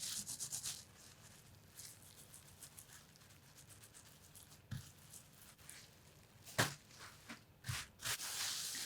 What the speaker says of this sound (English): I'm going to hand rub in the middle and I'm going to, again, work the area where the tail joins the heart.